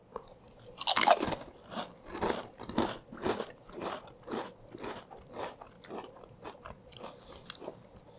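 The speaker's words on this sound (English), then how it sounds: "this video includes unaltered sounds of us crunching away on potato chips" Lays potato chips in Taiwanese and Thai flavors being crunched up close, a steady run of crisp bites and chewing crunches with no talking.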